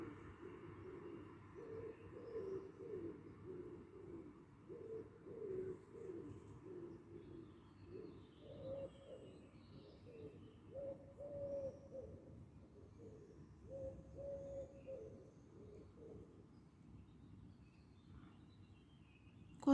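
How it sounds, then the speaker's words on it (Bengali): Doves coo softly and repeatedly in the early morning near a park, faint and somewhat distant, with light birdsong and low traffic rumble underneath. "অনেকগুলো পাখির কিচিরমিচির শব্দ শুনতে পাচ্ছি।"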